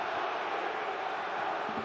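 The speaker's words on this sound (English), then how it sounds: "the crowd on their feet" Football stadium crowd at a Bundesliga match roaring steadily as fans rise to their feet, a dense continuous wash of cheering with no single voice standing out.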